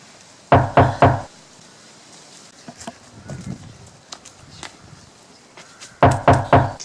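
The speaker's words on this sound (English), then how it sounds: "I'll wake Duncan if you're knocking." Triple sharp knocks on a wooden door ring out loud and close, followed by a quiet stretch of faint shuffling and small sounds, then another set of three knocks.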